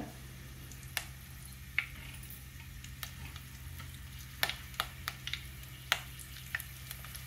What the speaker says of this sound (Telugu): అందులో కొద్దిగా కరివేపాకు వేసుకుందామండి